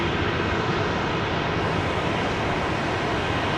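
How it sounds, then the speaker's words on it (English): An incoming Embraer Legacy 650 business jet approaching an airport, heard as a loud, steady, broadband engine roar that fills the whole stretch with no break and no talk. "Got an incoming Embraer Legacy 650."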